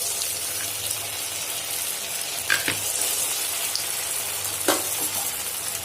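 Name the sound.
vegetable bread rolls frying in hot oil in a pan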